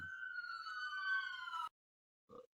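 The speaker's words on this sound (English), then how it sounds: "There's some sirens there." A police siren wails in a single long, slightly falling tone, then cuts off abruptly, followed by a brief faint blip.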